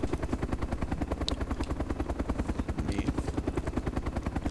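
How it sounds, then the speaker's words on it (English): A home-built gyrocopter in the game ArmA II flies with a loud, steady rhythmic rotor chop and a droning engine that keeps going without a break. "now this is one of the most popular home-built helicopters you can actually build on the market"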